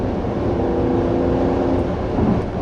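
Steady, loud engine and road roar as a 367-horsepower Mercedes-AMG GLC 4Matic accelerates in Sport Plus mode, heard from inside the cabin with a sustained drone and no talk.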